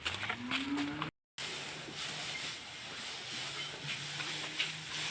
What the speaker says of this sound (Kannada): ದನಗಳಿಬ್ಬರು ಕರಿತಿದ್ದಾರೆ ಒಳ್ಳೆ ಸೊಪ್ಪಿರೋ ಅಲ್ಲಿ ಕಟ್ಟಿದ್ದೇವೆ ಆದರೂ ಕರಿತಿದ್ದಾರೆ